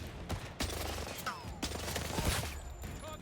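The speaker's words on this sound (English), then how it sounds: "this gun shoots so fast" Rapid gunfire in a 007 video game pops in quick irregular shots, moderately loud against busy game ambience, with faint voice-like sounds over it.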